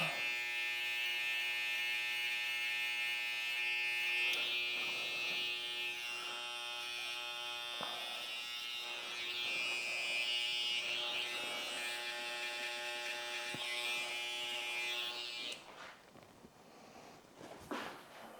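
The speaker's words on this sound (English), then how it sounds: "Grab my trimmers, line it up from the back and forward." Electric hair trimmers buzz steadily and close up while cutting a taper fade at a barbershop, a continuous high whine with slight shifts in pitch as the blade moves, then cutting off near the end.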